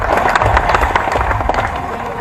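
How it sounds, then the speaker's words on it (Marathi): Loud, dense clapping from an audience at a prize ceremony after a cricket tournament, sustained throughout with a noisy crowd and some voices mixed in. "जोरात टाळ्या वाजवा."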